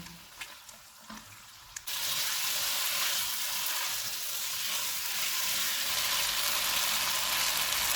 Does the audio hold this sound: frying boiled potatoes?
yes